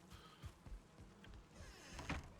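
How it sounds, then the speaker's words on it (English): Bees in the Valheim video game buzz faintly in a low, uneven drone, with scattered soft knocks and a brief louder rise near the end. "Collection of bees."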